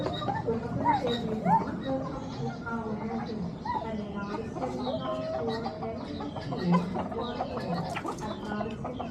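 Chickens cluck repeatedly nearby, with a busy jumble of bird calls while people talk over them, in Pattaya, Thailand.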